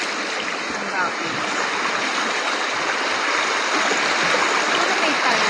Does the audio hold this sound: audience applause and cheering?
no